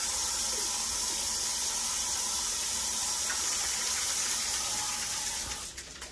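Water pours steadily from a tap to measure out enough for one tablespoon of formula, a continuous hissing flow that carries on until it cuts off near the end.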